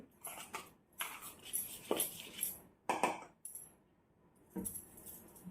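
Jaggery dough ingredients are mixed together in a bowl for gulpoli, giving intermittent clattering, scraping and soft patting bursts at close range, with short pauses between strokes.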